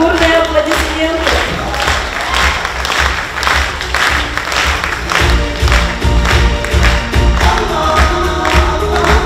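A crowd gives loud, sustained applause at a jubilee concert of an oriental belly-dance studio, with dense clapping and possible cheering filling the hall throughout.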